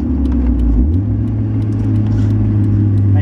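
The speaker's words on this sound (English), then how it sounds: "so I want to downshift into second gear." A car with a 5-speed manual gearbox downshifts into second gear, its loud close engine hum dropping and then settling into a lower steady drone, with no talk.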